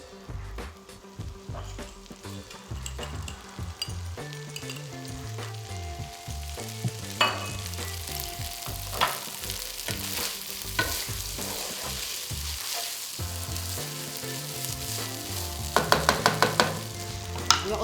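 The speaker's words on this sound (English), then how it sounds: "we're just gonna stir it in, make sure it catches onto the pulao masala" Rice being stirred with pulao masala in a frying pot, a continuous close sizzle with spoon scrapes and light clinks against the pot, a few sharper taps near the end.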